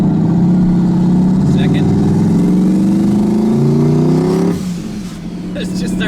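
Turbocharged LSX-swapped Chevrolet Colorado pulling hard in second gear, its loud engine note climbing steadily for about four seconds before abruptly cutting back.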